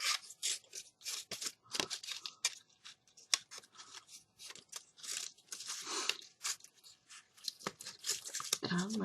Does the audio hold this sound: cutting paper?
yes